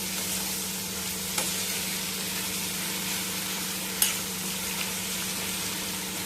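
An eggplant curry with coriander cooks in a pan, giving a dense, steady sizzle close by, with a low constant hum beneath and a couple of brief knocks from the stirring spoon, without speech.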